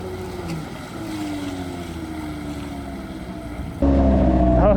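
The motor of a 1966 Appleby boat runs on open water with a steady droning whine and some wind noise. Near the end it swells suddenly louder and rougher as the throttle rises.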